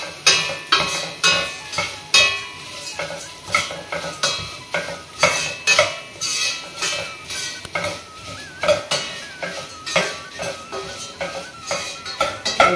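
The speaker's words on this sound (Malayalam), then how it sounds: "ബാക്കി നെയ്യിലേക്ക് അവിലിട്ട് വറുക്കും." Flattened rice (aval) roasting in ghee over a low flame, stirred steadily with a spoon scraping the pan in a quick repeated rhythm, with a soft sizzle underneath, close and alone.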